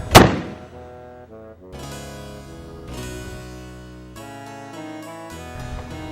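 A matchlock musket fires at Jamestown with one sharp, loud report right at the start, followed by a quieter stretch of ringing, tonal sound.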